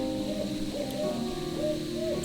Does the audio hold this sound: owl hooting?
yes